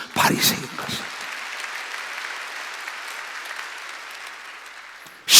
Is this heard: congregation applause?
yes